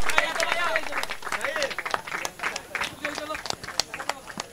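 Crowd clapping and scattered cheers at a cricket tournament prize ceremony, mixed with close, loud babble and an announcer talking over the noise.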